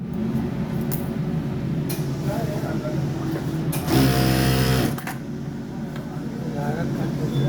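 A domestic sewing machine runs in one steady, loud, buzzing stretch of about a second while stitching, preceded and followed by quieter handling clicks and low background noise.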